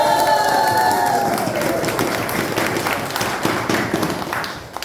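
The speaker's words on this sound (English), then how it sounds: "One more big applause for Carl Bontempo." Loud crowd applause and cheering at a Zion's Hill political rally in 2023, dense clapping mixed with shouts that starts strong and continues steadily throughout.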